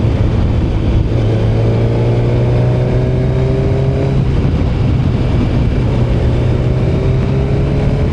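A Kawasaki ZZR1100 motorcycle engine while riding, a steady loud drone that climbs in pitch through the gears, with rising whine sweeps, a brief dip and another climb, heard close over wind rush without talk.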